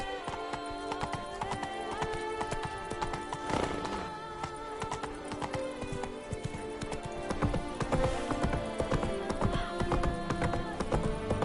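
Roach, a horse in The Witcher 3 video game, gallops in a quick, steady clip-clop of hooves over about eleven seconds, with a brief whinny partway through and soft game music beneath.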